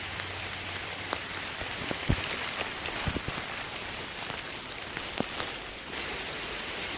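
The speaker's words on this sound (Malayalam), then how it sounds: "ഗൈസ് നോക്കും, നല്ല മഴയാണ്." Steady heavy rain hisses evenly, with scattered louder drops and splashes landing nearby on water and hard surfaces around an outdoor water lily bucket holding fish.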